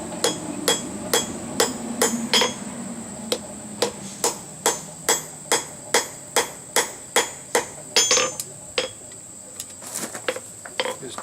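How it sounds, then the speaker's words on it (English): A hammer strikes hot steel over the far edge of an anvil while a pirate skull bottle opener is forged, giving a long run of loud, evenly paced ringing blows with a bright metallic tone and no talk. "we'll work over the far edge of the anvil here"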